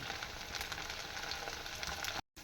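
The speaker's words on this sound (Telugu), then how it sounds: "ఇప్పుడైతే సిమ్లో అయితే పెట్టి కాల్చేద్దాం" Rice fritters (punugulu) fry steadily in oil over a low flame, giving a dense, even sizzle with no voices, broken by a brief dropout near the end.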